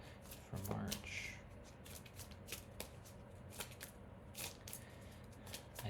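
A tarot card deck being shuffled by hand, with several crisp riffling and rustling bursts of paper cards, close and fairly quiet, repeating irregularly over a soft background.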